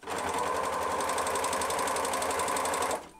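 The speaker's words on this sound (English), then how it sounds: "now you're ready to do a three-thread overlock seam. So I'm going to do that" An overlocker sewing a three-thread overlock seam, a loud, close, rapid mechanical chatter running steadily for about three seconds before stopping abruptly, with no voices.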